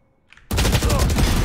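Gunfire in the video game Valorant breaks out suddenly after a quiet moment, a dense loud burst of rapid shots that carries on to the end without talk.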